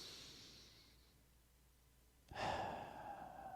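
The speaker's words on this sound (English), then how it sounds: "So let's take a deep breath real quick." A person takes a deep breath, with a soft inhale fading out, a quiet pause, then a louder breathy exhale close to the microphone.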